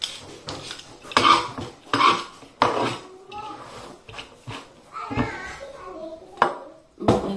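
Dishes, pots and cutlery clatter and clink repeatedly while being washed, in sharp irregular bursts close by, with a voice and other talk audible at times in the background.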